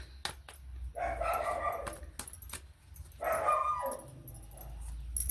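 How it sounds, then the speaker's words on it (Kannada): A household dog barks in a few short bursts, close by, with some jangling and rattling between the barks. "ಸೊ ನಮ್ಮ ನಾಯಿ ಭಾಳ ಕೂಗ್ತಾ ಇತ್ತಲ್ಲ"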